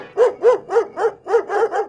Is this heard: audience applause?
no